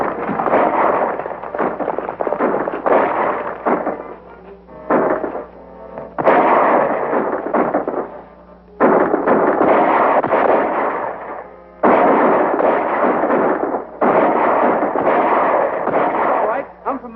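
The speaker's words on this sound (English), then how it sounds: "Shooting is helping us." Gunfire in a western film shootout, heard as rapid, loud volleys of shots and ricochets that come in repeated bursts over about seventeen seconds, with brief gaps between them and voices under the fighting.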